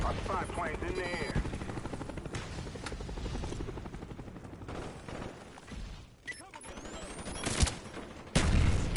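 Enemy Cobra attack helicopter from Black Ops 1 on PS5, its rotor drone running steadily through a dense, loud battlefield mix of gunfire bursts and explosions, with voices talking over it.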